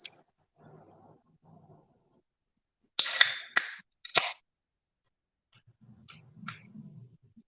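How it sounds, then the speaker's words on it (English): A sharp metallic crack and hiss as a can is popped open, followed by a second short fizzing snap, with quiet rustling before and after. "I'll crack a beer to that."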